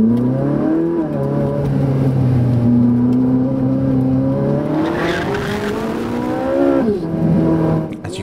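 A Ferrari 458 Italia pulls away on a damp road with traction control off, its engine rising in pitch through the gears with a brief dip at a shift, loud and close throughout.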